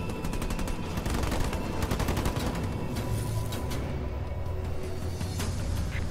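Gunfire from ground troops in the video game Halo Wars 2, with sustained rapid automatic bursts layered over a constant battle rumble, loud and unbroken across the whole stretch.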